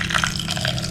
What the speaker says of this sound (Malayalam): കുറച്ച് വെള്ളം ഒഴിക്കുന്നുണ്ട്.